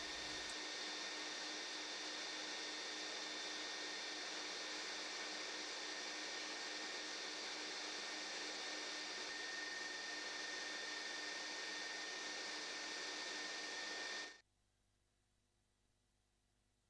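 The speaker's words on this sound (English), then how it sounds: "sand the inside of the cup until smooth" Abrasive paper hisses steadily against the inside of a spinning wooden cup on a woodturning lathe, a loud continuous broadband rush with a faint motor whine beneath, cutting off abruptly near the end.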